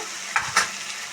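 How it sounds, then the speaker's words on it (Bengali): Vegetables fry in oil in a pan, giving a quiet, steady sizzle with two short stirring scrapes in a home kitchen. "সবজিটা ভাজা হয়ে গেছে।"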